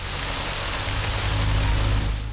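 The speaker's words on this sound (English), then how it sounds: "A little rain never stopped anyone." Steady rainfall in the video game Theia - The Crimson Eclipse, a dense even hiss with a low rumble beneath it, holding constant and close throughout with no voices.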